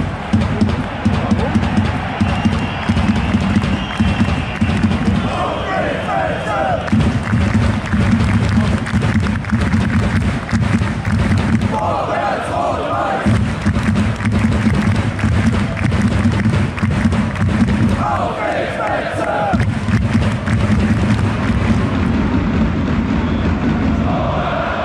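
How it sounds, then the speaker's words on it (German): 1. FC Kaiserslautern football fans in a stadium crowd clap together in a steady chant, with loud massed voices rising in shouts at intervals, a dense continuous roar throughout. "Ein Klatschen, dann ein Ausruf oder wohl eher ein Ausschrei"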